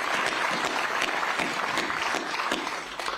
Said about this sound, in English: I just like to have a round of applause right there